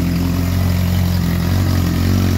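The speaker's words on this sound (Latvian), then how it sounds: "Izsildīsim motoru līdz darba temperatūrai." Yamaha FZ1 motorcycle engine idling as it warms up, a steady, loud, even rumble close by with no revving or speech.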